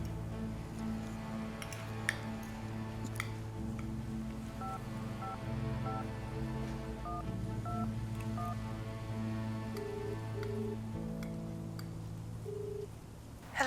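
A telephone number being dialed in a television drama scene: a run of short keypad tones over a steady bed of background music, with no one speaking.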